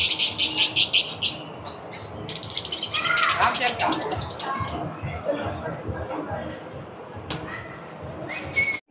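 A variety of birds at a park exhibition whistle, chirp and call in rapid overlapping bursts, some shrill and close, while people talk nearby.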